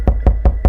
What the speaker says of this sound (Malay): Kita dengar bunyi ketukan macam